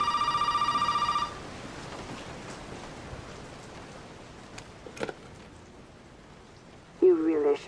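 An old-fashioned telephone bell rings loudly in a Resident Evil 7 game scene, a steady ring for about a second, then a quiet ambient stretch with soft rain-like texture and a brief voice near the end.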